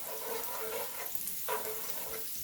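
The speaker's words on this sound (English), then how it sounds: "So we're going to let this saute a little bit" Potatoes with vegetables and sardine sauté in a hot pan with garlic, giving a steady close sizzle and two brief stirring scrapes.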